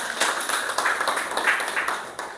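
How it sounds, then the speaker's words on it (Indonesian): A classroom of students claps for a group, a close burst of many hands in quick, uneven rhythm that gradually thins out toward the end. "Tepuk tangan untuk kelompok 3."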